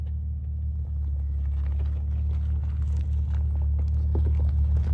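A Jeep TJ creeps backward down a long backcountry hill in the Nevada desert, its engine a steady low rumble with faint crunches and knocks from the trail, close and continuous.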